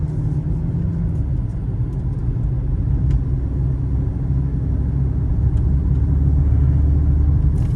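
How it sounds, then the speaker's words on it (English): A steady, low engine and exhaust rumble from a 2003 Mercedes-Benz C32 AMG with Kleemann modifications driving along, continuous and moderately loud, with no voices. "You hear the exhaust, but it's not overbearing."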